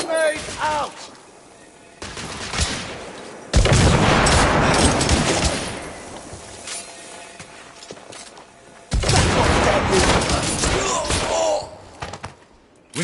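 Grenade blast and gunfire in The Order: 1886, a Victorian-era shooter set on city streets: loud bursts of explosive roar and rapid shots hit in three waves, with quieter gaps between and voices briefly calling out.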